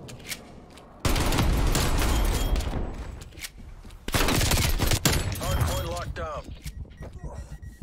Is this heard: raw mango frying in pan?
no